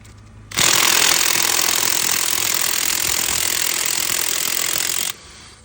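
A Dnipro-M impact socket on an impact wrench hammers steadily for about four and a half seconds, loud and continuous, while the wrench works a fastener loose, with only quiet background before and after the burst.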